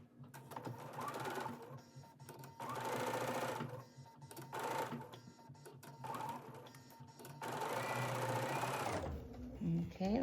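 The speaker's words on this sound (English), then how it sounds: "now I'm ready to sew my scant 1/4 inch" Sewing machine stitching a scant quarter-inch seam on quilt pieces, a steady mechanical whirring hum in several runs with short pauses, close and clear, stopping near the end; a voice speaks over part of it.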